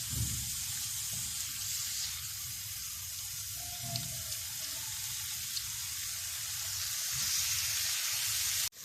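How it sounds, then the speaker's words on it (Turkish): Steady, loud sizzling and hissing of chicken pieces frying in oil in a pan for tantuni, continuous and close, with faint clinks underneath. "Ve tavuklarımı tavama ekliyorum."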